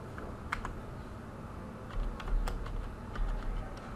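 Keystrokes on a computer keyboard during router network configuration, an irregular run of light clicks with a few louder taps, close and clear over a low steady background hum, with no voices.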